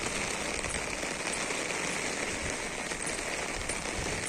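Rain falling steadily outdoors, a dense, even hiss of drops pattering on surfaces that continues without pause throughout, with no voices.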